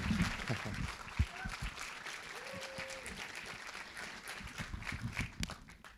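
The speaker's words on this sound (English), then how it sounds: "another very, very big round of applause" Audience applause at a live public conversation event with a photographer, a moderate steady patter of clapping from a seated crowd, fairly even throughout with some louder claps near the start and a slight fade at the end.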